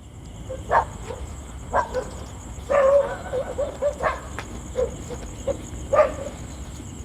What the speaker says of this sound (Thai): ยังมีหมาเห่ามาหอนอยู่นะครับ